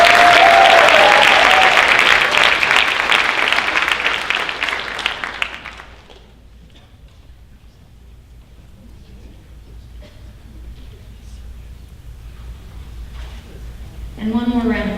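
A high school honors night audience claps strongly and steadily for about six seconds before it quickly fades to quiet room tone, and a voice starts speaking right at the end.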